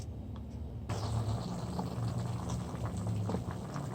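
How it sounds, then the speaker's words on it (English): Water boils hard in a pot with a lobster inside, giving a steady, close bubbling and churning that runs unbroken throughout with no voices. "You see all the water and everything boil in that lobster"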